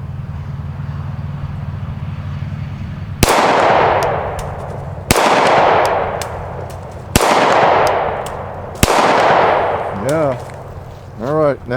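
A 10 millimeter pistol fired at targets outdoors, four loud separate shots a couple of seconds apart, each followed by a long rolling echo, with a brief voice near the end.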